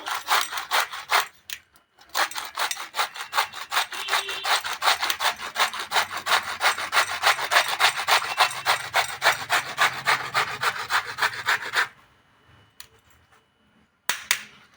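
Cabbage being grated by hand on a grater for whole-wheat momos, a fast steady rasping rhythm of strokes running close and loud for about ten seconds after a brief pause, then stopping, with no talk.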